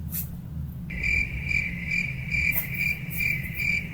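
Crickets chirp in a steady, evenly pulsing rhythm of bright high trills over a low background rumble, close and clear, with no voices.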